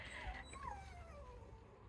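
A dog whining at a seaside caravan, a few thin high rising and falling whimpers, quiet and close, over a low background hum.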